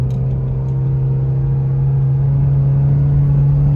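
A Mitsubishi Evo X with a failing SST transmission holds at high RPM, producing a loud, steady engine drone with a strong constant hum and no speech.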